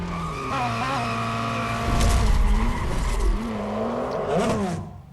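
A Ferrari F40 LM spinning a donut in Real Racing 3, with a continuous loud tire squeal and skid over a revving race engine whose pitch swoops up and down for about five seconds before it cuts off.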